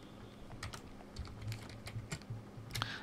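Text being typed on a computer keyboard, a string of quiet, irregular key clicks close to the mic.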